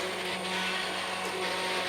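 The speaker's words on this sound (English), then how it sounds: "Now get your stick blender in, guys." A stick blender whirs steadily through cooked vegetables for a curry base gravy, a continuous close motor drone with a faint whine, no talking.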